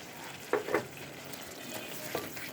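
Ginger and garlic frying in oil for a quick chicken biryani, a soft low sizzle with a few brief louder spatters near the start and one more toward the end.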